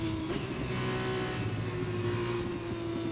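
F1 car engine in F1 2021 on PS5 revving hard as it accelerates, a steady high-pitched whine holding loud and close throughout with no break.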